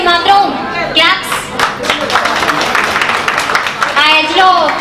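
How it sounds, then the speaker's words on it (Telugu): At a sangeet celebration, a crowd claps in a loose burst through the middle of the clip, while people talk over it at the start and end amid background chatter. "ఫస్ట్ ఆఫ్ ఆల్ వాళ్ళ ఎఫర్ట్స్ కి మాత్రం క్లాప్స్."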